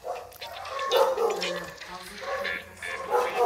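Dogs bark and yip in a string of uneven barks, fairly close and mixed with a voice talking over them.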